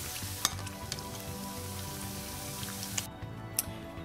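Cubes of paneer fry in a pan to a golden brown, with a dense, steady sizzle and crackle close by and a few sharp pops scattered over it.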